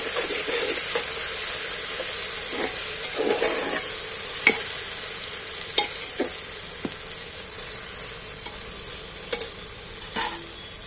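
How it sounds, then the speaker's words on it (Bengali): Meat frying in a pan with ginger paste, a bright continuous sizzle with intermittent stirring scrapes and soft clinks, close and fairly loud, with no voices. "আমি কিন্তু আদা বাটা হলে দিয়ে নেব এইটাকে আমি ভালো করে একটু ভেজে নিচ্ছি"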